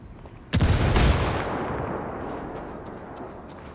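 A frag grenade detonates in Ghost Recon Wildlands: one sudden, loud, booming blast with a sharp crack, rolling into a long decaying rumble that fades over several seconds.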